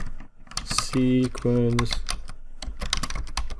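Keys clatter rapidly and close on a computer keyboard while robot program code is entered on a PC, a dense irregular patter running under a man's speech.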